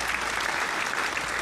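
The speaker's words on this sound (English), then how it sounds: "Let me give you your little clapping again" A short burst of dense applause, many hands clapping steadily at even volume, with no voices over it.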